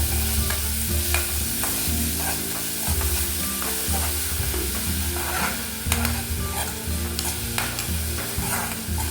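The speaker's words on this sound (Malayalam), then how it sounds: "നന്നായി ഇളക്കി കൊടുക്കാം" Leftover dosa and egg stirred in a hot pan, a steady sizzle of frying under repeated scraping and clanking strokes of a spatula against the pan, close and continuous with no talking.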